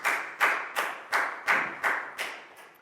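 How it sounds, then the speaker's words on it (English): Schoolchildren in a Year 4 maths classroom clap for a classmate in seven loud, evenly spaced rounds, each a short burst of many hands that fades before the next, with no talking. "a big round of applause for Prau"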